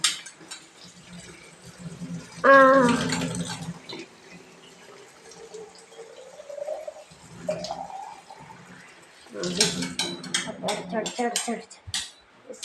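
Water runs into a bottle with a gurgling pour whose pitch climbs steadily as it fills, among clinks of dishes and cutlery in a kitchen, with some talking nearby.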